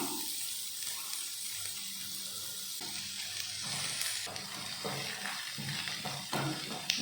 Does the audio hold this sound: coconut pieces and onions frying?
yes